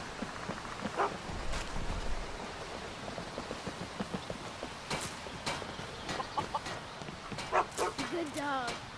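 A dog in the video game Skyrim barks several times in sharp bursts, mixed with chickens clucking nearby and quiet game ambience, with a voice speaking intermittently.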